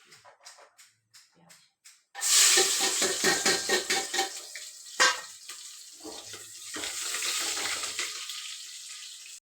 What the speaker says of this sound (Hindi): अभी तो प्याज डाल देती हूँ